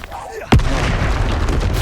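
A sudden booming blast from the Confringo explosion spell in Hogwarts Legacy, a sharp loud burst that leaves a rumbling tail, following a brief quieter moment.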